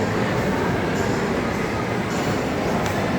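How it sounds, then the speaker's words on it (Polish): A train rumbles steadily at a station as it prepares to depart, a dense continuous roar of wheels and engine close by with faint higher squeals, no pauses throughout. "A tu widzę, że już pociąg się wybiera do Europy."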